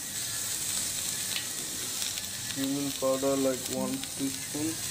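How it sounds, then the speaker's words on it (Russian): A steady soft sizzle of ground cumin, coriander and grated fresh ginger frying in a pan, with a voice briefly talking over it partway through. "И продолжаем жарить, но тут важно тоже не сжечь."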